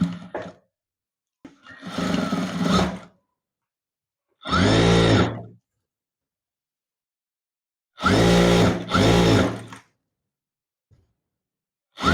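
A sewing machine stitches the side seam of a dress in four separate whirring runs, each lasting one to two seconds, with near-silence between them.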